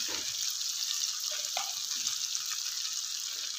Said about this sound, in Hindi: लहसुन अदरक के पेस्ट को भी अच्छी सी खुशबू आने तक पका लेना है।